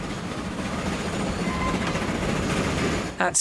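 A train rumbles and clatters along the track in the railway game Transport Fever 2, a steady loud rolling noise with a faint high squeal and a brief sharp burst at the end.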